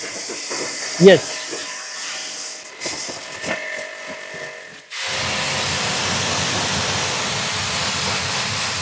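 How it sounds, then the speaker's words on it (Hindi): An electric high-pressure washer sprays water over a washed car with alloy wheels, a steady broadband hiss starting midway and running continuously at close range after a brief spoken word and some handling noises. "अभी फटाफट इसको पानी मार लेते"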